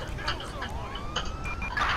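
An ambulance siren in a police-themed video game (LSPDFR, a GTA V police mod) wails with rising and falling tones throughout, fairly close and steady over faint background game noise.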